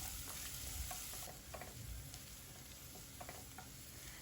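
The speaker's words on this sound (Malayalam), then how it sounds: "ഇനി സവാള നന്നായിട്ട് ഒന്ന് വഴറ്റിയെടുക്കാം" Chopped onion sautéing with mustard seeds in a pan, a soft steady sizzle with occasional faint stirring scrapes, quiet and close with no talking.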